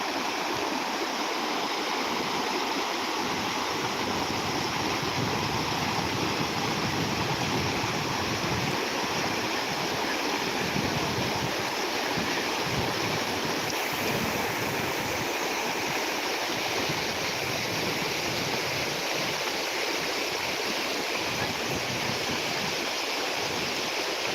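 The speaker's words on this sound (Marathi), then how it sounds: "कोकणातील हा पहिला महापूर आपल्याला ते मागजण इथे पाहायला मिळतो आहे" Floodwater rushes through a Konkan village during a major 2025 flood, a continuous loud, broad roar of flowing water that holds steady the whole time with no voices.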